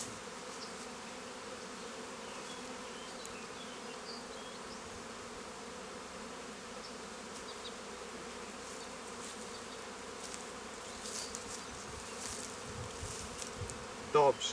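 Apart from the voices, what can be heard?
honey bees buzzing at an opened beehive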